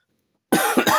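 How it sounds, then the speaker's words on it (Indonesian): A person coughs three times in quick succession, close and loud, after half a second of silence. "kalau kalian dengar saya batuk mohon maaf ya"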